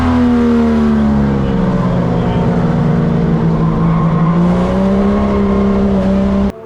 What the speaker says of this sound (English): I could then carry all of my speed through turn 1 and close up to Wayne Nichols.